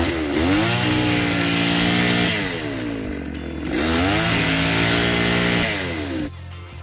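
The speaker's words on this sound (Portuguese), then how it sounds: "só simplesmente varem com a própria roçadeira assim" A gas-powered brush cutter revs loudly while sweeping cut grass aside, its engine whining up and down in two long sustained bursts, close and continuous, easing off at the end.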